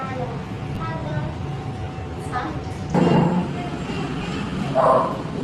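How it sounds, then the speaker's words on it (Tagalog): A dog gives a couple of short yips over steady background noise, one in the middle and another near the end. "Ako pinasok na naman yung aso."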